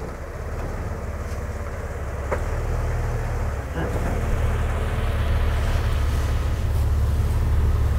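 A Jeep engine idles low and steady at close range, creeping up trailer ramps with faint rattles and wind noise, its rumble rising slightly partway through.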